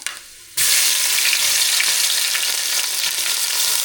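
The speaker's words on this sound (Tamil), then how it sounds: "எண்ணெய் நல்லா சூடாகிடுச்சு வெந்தயம் சேர்த்துக்கலாம் அது கூட இடிச்சு வச்சிருக்க சின்ன வெங்காயத்தை சேர்த்துக்கலாம்" Small crushed shallots and fenugreek seeds drop into hot oil, setting off a sudden loud, steady sizzle after a brief quiet start that continues without a break.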